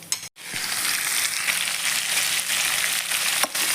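Tamarind and asafoetida frying in oil, a steady close sizzle that runs continuously and fairly loud, with a brief dropout at the start and faint stirring scrapes.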